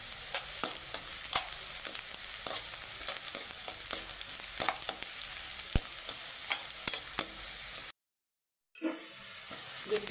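Garlic added to onions already frying light brown in a pan sizzles steadily with scattered stirring clicks, loud and close, broken by a brief silent gap near the end.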